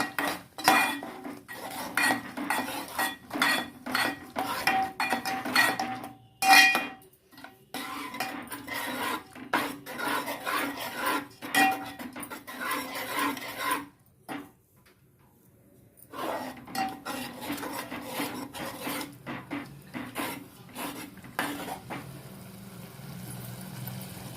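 Yogurt being stirred into egg biryani masala in a cooking pot, with a spoon scraping and clinking against the metal in steady repeated strokes, close by, with a short pause partway through.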